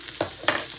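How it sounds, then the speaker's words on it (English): Plant-based brats and sautéed portabellos sizzle in organic virgin olive oil in a pan, a steady close hiss broken by a couple of sharp stirring scrapes. "organic olive oil in there, just so they're sizzling and they're not sticking to the pan"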